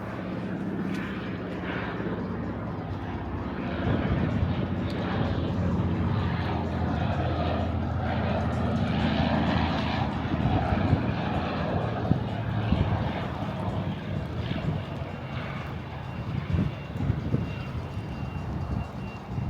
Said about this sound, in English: The plane's gonna land in this field. See, there it is, coming in.